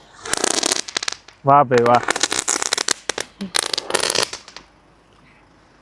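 Diwali firecrackers go off in Germany in rapid crackling bursts, sharp pops clustering and fading, while a man exclaims over them.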